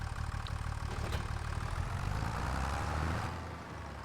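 In Farming Simulator 25, a John Deere tractor's engine idles with a steady low rumble and no speech over it. The hum dips slightly near the end.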